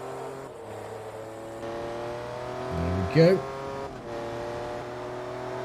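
A race car in Forza Motorsport 2 on a supercar endurance race at Mugello holds a steady engine drone with a brief rise in revs, under a short spoken comment.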